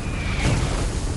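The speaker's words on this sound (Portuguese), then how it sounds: "Os projéteis caem perto, mas não atingem os canadenses." Artillery shell explosions from a medium regiment's high-explosive rounds landing close to Canadian troops near Falaise, a dense, continuous roar of blasts with a heavy low rumble swelling midway, loud and without speech.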